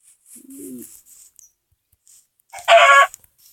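A chicken gives a short low cluck, then after a quiet gap lets out a loud, close, raspy squawk or crow, with no talk around it.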